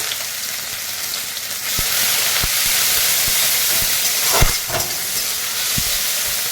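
Chopped onion sizzling in hot oil in a wok, a steady, loud hiss throughout with occasional sharp pops and crackles, up close and with no talking.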